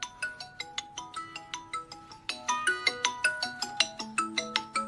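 A mobile phone ringtone plays a bright, repeating electronic melody of quick plucked notes. It rings loudly and close, alone, and shifts to a fuller, louder phrase partway through.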